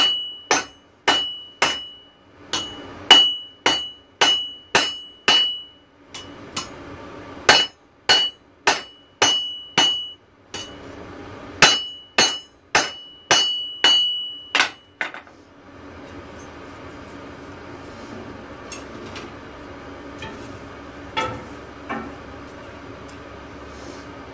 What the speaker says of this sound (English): This is the hammer I'm using.